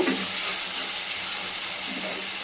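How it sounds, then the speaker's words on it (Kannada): Chopped tomatoes fry with curry leaves in a pan, giving a bright, continuous sizzling hiss, close and fairly loud, that holds steady throughout without pauses or voices. "ಕರಿಬೇವು ಹಾಕಿ 1-2 ಸೆಕೆಂಡ್ಸಿಗೆ ಈ ಟೊಮೆಟೊ ಆ್ಯಡ್ ಮಾಡ್ಕೊಳ್ಳಿ."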